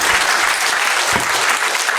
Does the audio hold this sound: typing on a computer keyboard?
no